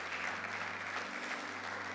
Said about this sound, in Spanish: Dale más fuerte ese aplauso